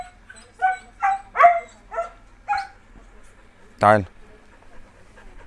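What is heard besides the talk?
native street dogs barking and panting at a dog shelter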